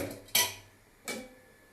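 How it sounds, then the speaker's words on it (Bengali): A metal wok is set down on the stove with two sharp clanks about a second apart, close and distinct against a quiet kitchen. "কড়াই বসিয়ে দিলাম।"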